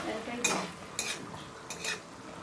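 A spoon or spatula stirs masala with fried potatoes and makhana in a pan over medium heat for a paneer makhana dish, giving three or four distinct scraping, clinking strokes over a soft background sizzle, close up and with no voices.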